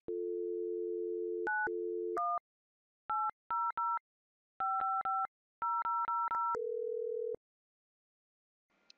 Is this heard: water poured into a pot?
no